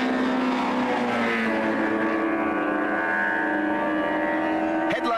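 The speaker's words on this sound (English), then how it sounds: "Headlights are blazing in the gathering gloom as Shaun van der Linde goes through Castrol Corner for the last time" Super Touring race cars at the 1996 South African championship at Goldfields Raceway run through Castrol Corner in the dusk, their engines holding a loud continuous drone with shifting pitch and a brief clatter at the end.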